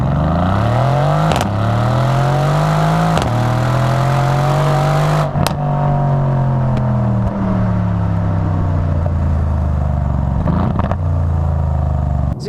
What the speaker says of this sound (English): quite a technologically advanced 4-litre V8 with twin turbos